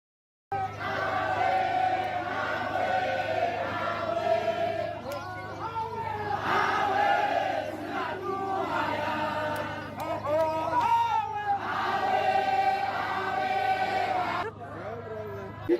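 Protest crowd shouting and chanting outdoors, loud and continuous with voices rising and falling in waves over a steady low hum.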